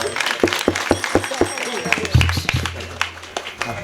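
An audience at a kirtan claps in a quick steady rhythm of several sharp beats, then the claps turn scattered as voices and chatter rise over them.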